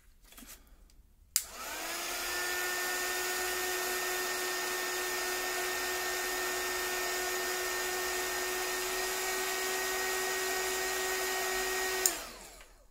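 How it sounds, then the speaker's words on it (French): A hair dryer switches on with a click and runs steadily for about ten seconds at a loud, even whine, drying paper, then clicks off. "C'est le sèche-cheveux."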